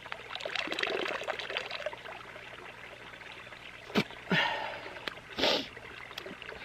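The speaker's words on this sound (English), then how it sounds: "Then when you're done, you blow all the water out." A filter water bottle is blown clear of water outdoors, with a soft trickle and splutter followed by two short, sharp bursts of air and spray near the end, fairly quiet overall.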